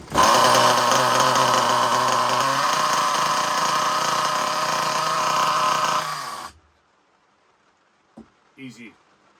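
The nitro engine of a Thunder Tiger EB4 RC buggy runs loud and close with a buzzing, high-revving drone that shifts pitch midway, then cuts out abruptly, followed by near silence and a couple of faint clicks.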